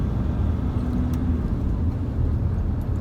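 Car cruising along a beach road at Suan Son beach near Ban Phe, a steady low engine and road rumble close by, continuous throughout with no talk.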